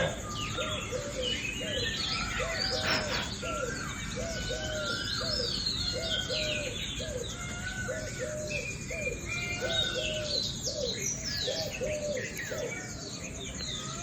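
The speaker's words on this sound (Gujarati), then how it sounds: "જો કબૂતરનો અવાજ આવે છે," Pigeons cooing among a busy morning chorus of small birds, with chirps and calls layered over steady background hiss, fairly near and continuous throughout.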